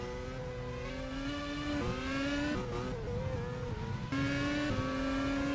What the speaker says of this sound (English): with Enrique Ruiz chasing down Adrian Simon, let's just take a listen to this Honda engine now that the track's dry again.